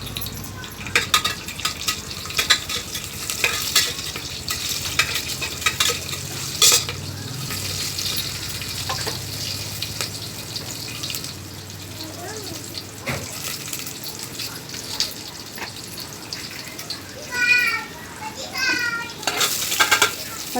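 Chillies and chopped onion sizzling in hot oil for a tempering, with steady crackling frying and occasional stirring clinks of a utensil against the pan, close and fairly loud throughout.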